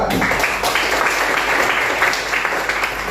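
A classroom of middle-school students claps together, a dense burst of applause that starts abruptly and carries on steadily at close range for a few seconds.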